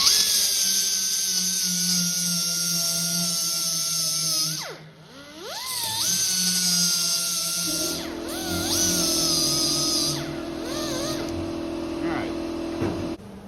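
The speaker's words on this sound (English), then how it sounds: "Alright, I'm going to dress down the weld." An angle grinder dresses down a weld on a classic car body panel, a loud, close, high-pitched whine that dips briefly as the disc bites and then resumes steadily.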